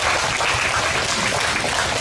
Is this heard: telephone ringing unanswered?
no